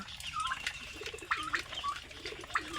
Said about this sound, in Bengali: এখানে ফার্মি মুরগি আছে, দেশি মুরগি আছে, গলাশিলা মুরগি আছে, টার্কি মুরগি আছে